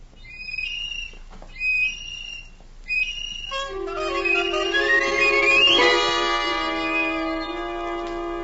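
A tin whistle blows three short, shrill toots, then a sustained warbling tune that slides upward and carries on loudly, close by and alone.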